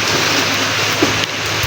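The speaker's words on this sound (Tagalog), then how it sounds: "Walang lubay yung ulan" Heavy, unbroken rain pours down in bad weather during a farm harvest, a loud steady hiss of water with no pause.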